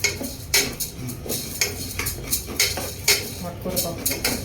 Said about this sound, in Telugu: అందులో పప్పు వేయిస్తున్నాను. పప్పు వేయించాలి